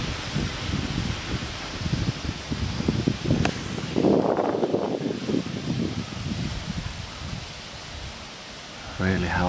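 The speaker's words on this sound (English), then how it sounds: "Just a little bit windy." Strong gusting wind roars and rustles outdoors on a high-wind day, buffeting the microphone with a steady broadband rush that swells and eases, with a voice faintly under it.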